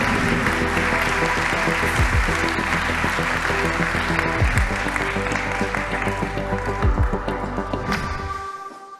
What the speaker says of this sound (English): Please welcome, under your warm applause, Elisabeth, Ellison-Davis et Stéphane Dupays